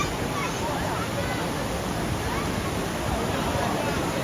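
Floodwater rushes in a strong, steady roar across a flooded stretch between Johe and Tambadshet near Pen, a dense unbroken wash of noise with faint crowd voices underneath.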